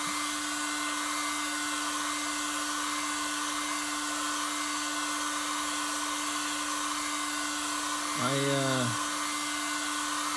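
A heat gun with a weed-burner nozzle heats a metal wheel to free a propeller axle, giving a steady, loud hissing blow with a constant hum throughout, and a brief rising whine near the end.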